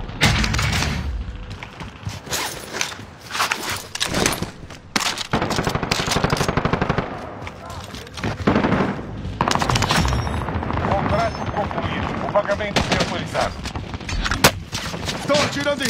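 Loud, dense gunfire from Call of Duty Warzone: rapid machine-gun bursts and single shots overlap with heavy booms and thuds, running almost without pause throughout.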